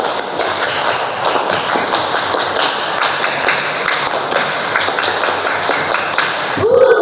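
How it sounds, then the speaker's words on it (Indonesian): Children clap the Pramuka scout clap in a classroom, two rounds of steady rhythmic group clapping that fill the room with dense, even patter. "2 kali tepuk pramuka."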